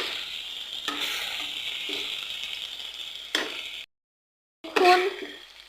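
Spiced chalta (elephant apple) pickle is stirred in a pan, giving a soft continuous sizzle broken by several sharp scraping strokes of the spoon, with one brief silent gap before a final louder scrape.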